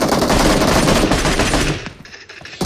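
Rapid gunfire rattles in the mobile battle-royale game PUBG Mobile: a loud, dense burst of automatic shots for about two seconds, then a quick fade with a final faint shot, and no talking.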